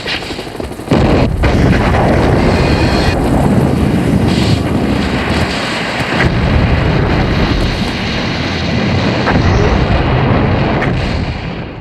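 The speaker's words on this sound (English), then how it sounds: "you've also got a fair number of explosions" Explosions in a James Bond film thunder after a short quiet start, then roll on as a loud, sustained rumble with sharp blasts and crackling debris layered through it for about ten seconds.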